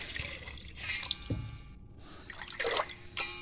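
Water poured from a bowl into a pot while making sooji papad, a few short splashes and trickles with brief pauses between pours, close and fairly quiet.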